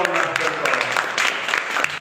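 An audience claps warmly to honour an elderly folk artist at a gathering, a steady wash of applause with no clear voices over it.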